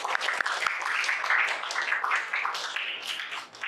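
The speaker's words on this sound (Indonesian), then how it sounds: "Ya, tepuk tangan." A school class applauds in a lively burst of many hands clapping at close range, steady for a few seconds before thinning, with a few voices mixed in.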